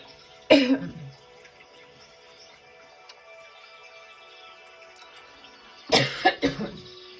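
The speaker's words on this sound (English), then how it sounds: "Excuse me, coughing." Two bursts of coughing, one short fit near the start and a harsher cluster of several coughs near the end, separated by quiet room tone.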